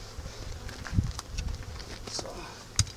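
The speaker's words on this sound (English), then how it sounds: "Yeah, a lot of bees up here, so that's good." Honeybees buzz around an open hive during an inspection, a faint, steady insect drone with a few louder passes close by and some handling bumps and rustles.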